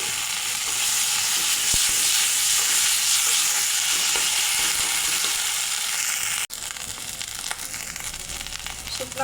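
Ground ginger, coriander and cumin paste hitting fried onions in a pan, giving a loud, close hiss and crackle of sizzling that runs continuously, briefly dips, then carries on with stirring scrapes.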